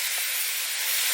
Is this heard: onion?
yes